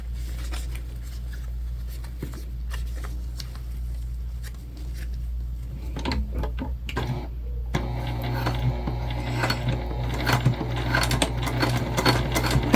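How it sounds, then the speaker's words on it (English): A sewing machine back stitches a pocket onto a travel sling bag, running with a steady low motor hum and fast rattling needle clatter that grows busier and louder in the second half, with a few handling clicks. "I am back stitching"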